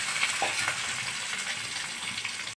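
Potatoes dropped into a wok of frying onions in mustard oil, giving a steady, close, loud sizzle with faint stirring scrapes throughout and no talking.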